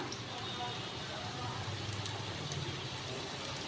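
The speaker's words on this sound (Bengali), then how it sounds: "এবার আমি আলুগুলোকে ছেড়ে দিলাম, গ্যাসটা একটু হাই ফ্লেমে দিলাম।" Potatoes fry in a pan over a high gas flame, giving a soft, steady sizzling hiss that stays fairly quiet throughout while a voice talks now and then.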